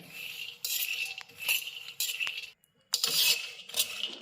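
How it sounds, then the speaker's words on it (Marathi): Almonds roasting in a pan over medium heat while being stirred, with repeated bright clinking and scraping bursts as the nuts rattle against the metal, close up and rhythmic with a brief pause. "आता हे सगळं आपण भाजताना मीडियम गॅसवरती भाजायचं आहे आणि सतत हलवत राहायचं आहे"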